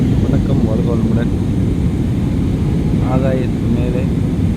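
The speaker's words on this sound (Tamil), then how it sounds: "இந்த விமானம் பறந்து கொண்டிருக்கின்றது." Steady, loud cabin drone of an airplane in flight fills the whole stretch, with faint speech-like tones rising over it now and then.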